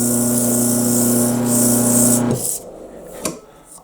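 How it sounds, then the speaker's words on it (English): A flute head joint cork spins on a bench motor while sandpaper works it, giving a loud, steady whirring hum with a hissy abrasive edge that suddenly stops partway through, leaving quiet with one faint knock. "I'm going to sand it with some sandpaper as it's spinning around"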